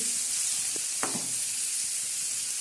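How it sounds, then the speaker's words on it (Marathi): Chopped onion sizzling in hot oil for a spicy sev bhaji, a steady close frying hiss with a couple of brief stirring scrapes and no talking. "तर आता चांगला कांदा आपला फ्राय होतोय"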